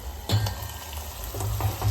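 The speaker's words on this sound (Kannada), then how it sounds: "ಇದು ಮಸಾಲೆ ಎಲ್ಲ ಎಣ್ಣೆ ಒಳಗೆ ಫ್ರೈ ಆಗಲಿ" Oil sizzles steadily with a soft crackling hiss as masala paste fries for gobi palya, broken by a few low scraping stirs of a spoon in the pan.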